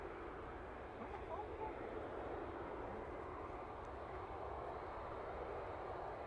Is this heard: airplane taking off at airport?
yes